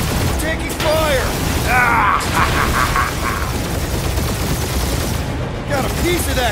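Gunfire in the Marvel's Guardians of the Galaxy video game, with loud bursts of blaster shots and mechanical clatter through a busy battle mix, voices talking over it.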